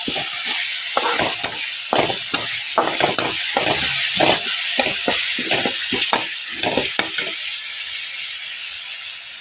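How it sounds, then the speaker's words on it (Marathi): Green chillies and garlic fry and get stirred in a pan, a steady hiss of sizzling oil broken by repeated scraping strokes of a spatula, loud and close throughout with no voices. "तर बघा आता भाजून घेतले असे हिरवी मिरची आणि लसूण"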